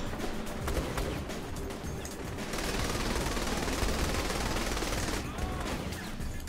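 Dense, continuous gunfire in Saints Row: The Third Remastered, rapid bursts overlapping into a loud, unbroken barrage with crashes mixed in.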